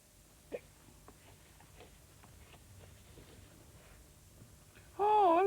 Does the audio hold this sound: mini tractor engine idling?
no